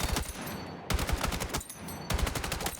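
Automatic rifle fire from the video game Battlefield 6 comes in long full-spray bursts of rapid, loud shots, two sustained strings separated by a short pause.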